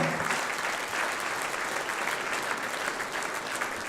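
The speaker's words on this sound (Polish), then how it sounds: "Duże brawa." An audience claps steadily after a musical performance, a dense wash of applause that holds at an even level from start to finish.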